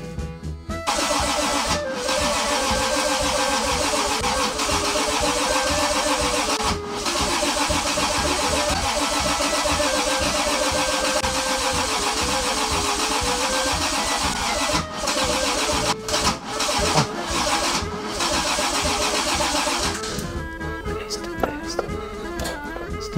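A Toyota 2JZ engine cranks on its first start attempt, the starter churning loud and close in a long continuous run broken by a few brief pauses, then faltering into short bursts near the end.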